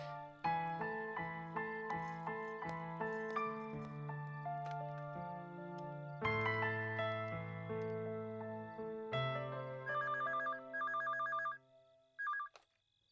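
A telephone ringing for an incoming call, a melodic chiming ringtone of repeated tonal notes in phrases, followed by a brief higher electronic trill near the end.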